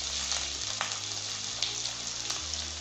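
Onions and cumin fry in hot oil with a steady, fairly loud sizzle and bubbling hiss, a low hum underneath and occasional faint clinks, with no voices.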